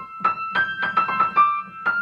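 A piano imitates a cuckoo's call with a short run of clear, separate notes struck in a quick, slightly uneven rhythm, close and alone.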